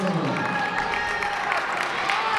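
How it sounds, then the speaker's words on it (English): A basketball crowd at a women's college game, HU against the University of Saint Francis, gives a player steady applause and light cheering, a broad wash of clapping under a commentator's voice. "And Eshman getting a well-deserved applause."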